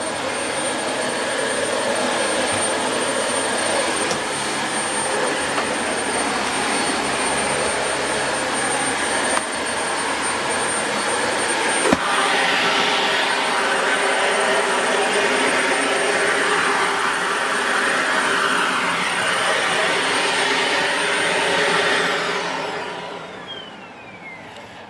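A 2017 UK Dyson Light Ball Multi Floor vacuum cleaner runs with a loud, steady whine and airy roar. A few knocks sound partway through, and the motor winds down at the end.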